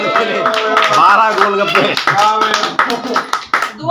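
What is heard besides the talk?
applause, clapping after golgappa eating challenge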